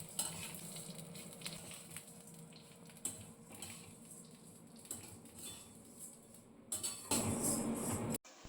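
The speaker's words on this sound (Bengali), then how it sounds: "ঘিটা গরম হয়ে গেছে, আমি সিমুইটা দিয়ে দিচ্ছি। সিমুইটাকে লাল লাল করে ভেজে নেব।" Vermicelli frying in hot ghee in a kadai, a faint continuous sizzle with soft scrapes and taps of a stirring spoon, close and quiet, ending in a brief louder burst of frying, with no talking.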